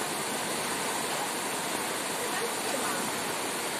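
Floodwater of Dogura Creek rushes in a steady broadband roar, a constant close wash of moving water with no breaks and no voices over it.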